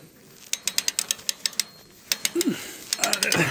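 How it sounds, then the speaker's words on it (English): A hand crank winch ratchets upward in a quick run of sharp mechanical clicks, pausing briefly before another burst of clicking, with some rustling in between. "Oh, so we can crank this up a bit."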